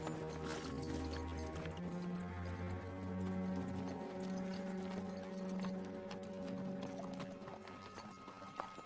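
Horse hooves clip-clop quietly on a medieval outdoor set, their steady plodding beats set beneath a sustained orchestral score.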